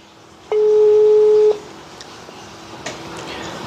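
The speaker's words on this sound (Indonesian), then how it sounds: "saya langsung telepon aja Pak Lilinya nih" A telephone call's ringing tone sounds once as a single loud, steady electronic tone lasting about a second, followed by quiet line hiss and a few faint clicks.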